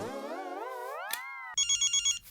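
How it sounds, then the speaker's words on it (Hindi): A telephone rings on a sitcom set, a warbling electronic tone sliding upward for about a second and a half, then a burst of rapid trilling bell pulses, loud and close with no talking. "माधवी का फोन है"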